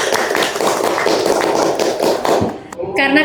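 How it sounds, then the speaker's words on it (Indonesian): Audience applause in a school podcast studio at a Jakarta madrasah, a dense burst of clapping lasting a few seconds before it fades, with a voice briefly heard at the end. "Tepuk tangan dulu dong"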